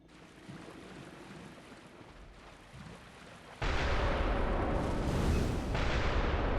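Cannon fire in the Bloodborne video game, a sudden heavy boom that swells into a sustained loud roar of blasts and rumble after a quieter stretch of low ambient noise.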